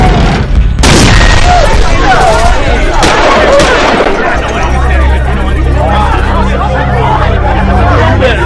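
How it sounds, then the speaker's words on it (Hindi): Two loud bomb blasts early on, followed by two sharp gunshots and a crowd's confused hubbub and shouting beneath a low rumble. "लगातार 2 बमों के धमाके हुए, फिर 2 गोलियां चली।"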